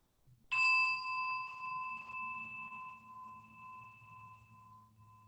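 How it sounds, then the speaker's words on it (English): A single bell is struck to mark the end of a mindfulness talk, one clear ring that sustains and slowly fades in a quiet room. "just ring the bell in a second to signal the end of the talk"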